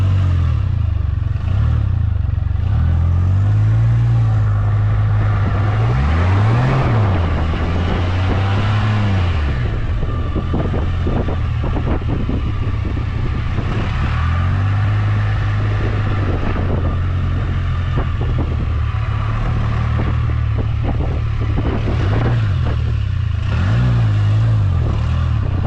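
A Can-Am F3 Spyder on snow and ice drones loud and near, its engine pitch rising and falling with repeated revs, while wind buffets the microphone throughout.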